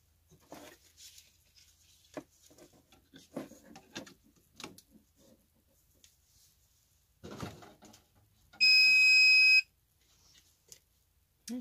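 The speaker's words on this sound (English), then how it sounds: "the book did say it would beep when you plug it in" A hydroponic growing system gives a single steady electronic beep, about a second long, when plugged in, over quiet intermittent clicks and rustling.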